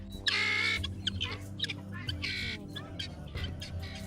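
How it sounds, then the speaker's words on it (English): Guinea fowl cackling in the open veld of a southern biosphere, a loud harsh burst of calls followed by choppy repeated clucks and squawks from several birds nearby. "the familiar cackle of guinea fowl"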